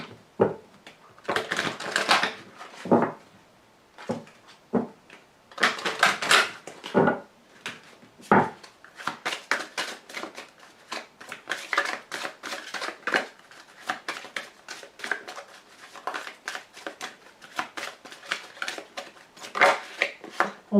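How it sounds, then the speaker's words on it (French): Oracle cards of the Archangel Gabriel being drawn and shuffled from a deck, giving a long run of close, crisp paper flicks, snaps and rustles in irregular bursts with no voice over them. "je vous tire tout de suite une carte de l'archange Gabriel, une carte d'oracle, une carte conseil"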